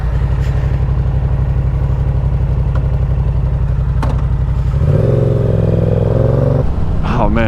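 A Yamaha R7 motorcycle engine idles with a steady low throbbing rumble up close, then revs up briefly and drops back, with a short voice at the end.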